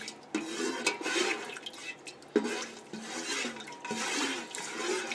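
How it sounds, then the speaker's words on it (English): Carrots being stirred in their juices in a cooking pot, wet sloshing and liquid swirls with scraping knocks of the spoon against the pot, moderately quiet, in irregular strokes. "stir this all up"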